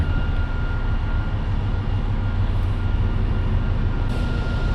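A train rumbles at Moss Vale station with a steady, loud low-frequency roar that holds constant throughout, with no voices.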